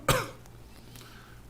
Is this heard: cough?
yes